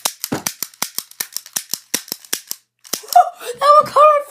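Toy cap gun snapping off a quick string of sharp, close caps for about two and a half seconds, then a pause before people begin talking and laughing.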